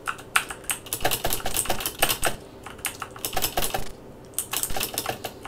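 ZX Spectrum computer keyboard keys pressed in quick irregular bursts of clicky taps, close and clear, with a short pause midway before typing resumes.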